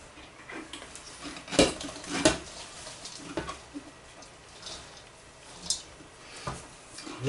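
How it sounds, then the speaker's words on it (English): Kimchi ingredients are stirred and tossed in a pan, giving irregular scraping, clattering knocks of utensil against the pan, some sharp and close, over a soft background hiss. "So I take another pan"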